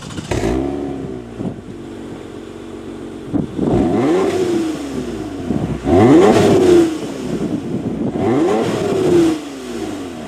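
A 2021 Toyota Camry TRD accelerating on a road test drive, its engine rising and falling through several loud, sweeping revs as it shifts through the gears, heard from inside the car.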